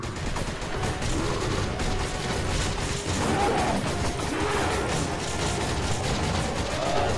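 Resident Evil 5 gunfire during a boss fight, with sustained loud shots and crashing impacts packed closely together and continuing throughout, with a faint voice underneath.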